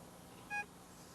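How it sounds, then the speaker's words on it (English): A single short electronic beep from a Whites Eagle II SL metal detector, clear and steady, over faint background hiss. "You should hear a solid beep."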